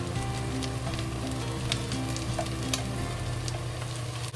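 Mushrooms fry with scallion in a hot pan in a steady, close sizzle with scattered pops and crackles, while a soft melodic tone hums underneath and no voices are heard.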